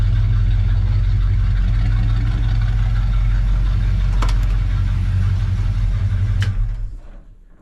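A 1972 Ford F-250 truck engine idles with a deep, steady rumble through its dual exhaust close by, low and throaty, with a couple of faint clicks before it cuts off.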